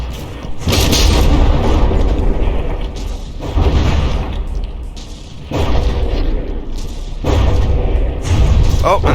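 Heavy explosions tear a battleship's turret loose during a naval battle in the game From The Depths, with repeated loud deep booms that rise and fall in sustained bursts over roughly nine seconds, spoken commentary running over them.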